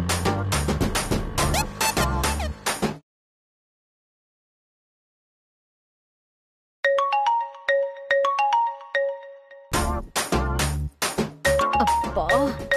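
An incoming call sets off a melodic mobile phone ringtone in a Telugu TV drama. The bright chiming tune follows a stretch of silence, and louder music and voices surround it before and after.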